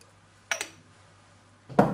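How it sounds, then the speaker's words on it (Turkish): A wide cooking pot is set down on a stove, with two short metallic clunks, one brief knock followed about a second later by a louder, closer clatter, against near silence. "Geniş bir tencere ocağa alalım."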